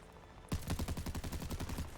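A Death Machine weapon fires in Call of Duty Vanguard as a sudden, loud rapid burst of closely spaced shots that starts half a second in and keeps going steadily to the end.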